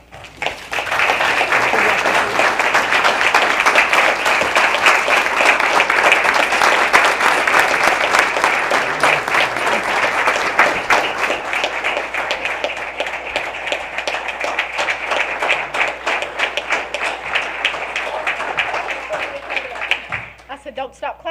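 Audience in a school district ceremony applauding after a new superintendent takes the oath of office, sustained loud clapping for about twenty seconds that thins near the end.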